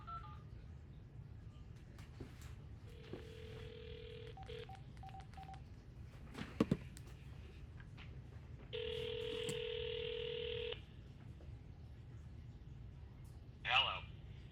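A phone number dialed on a keypad: a few short tone beeps, then a long sustained tone, with a quiet hum and faint background speech.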